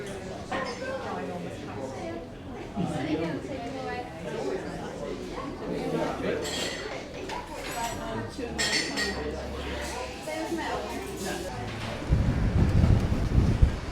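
Café ambience at a corner coffee and pasty shop in Bude, Cornwall, with scattered clinks of cups and dishes, steady background chatter and wind noise on the microphone, and a louder rush of noise near the end.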